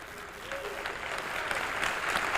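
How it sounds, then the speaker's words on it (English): An audience at a 1994 lecture event on black liberation gives a round of applause for Brother Malik, with dense, steady clapping and some crowd noise that grows slightly louder toward the end. "I want to give Brother Malik a strong round of applause"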